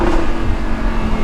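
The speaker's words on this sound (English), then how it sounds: "Another one of my favorite parts about this car is the exhaust." A Lamborghini Huracan's exhaust roars loud and steady while accelerating in first gear, a dense, continuous engine drone with no voices over it.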